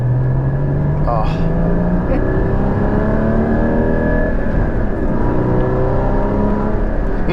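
A Porsche Cayman GT4 engine pulling hard on a canyon road, rising steadily in pitch as it accelerates through the revs, loud and close from inside the cabin, with a brief voice near the start.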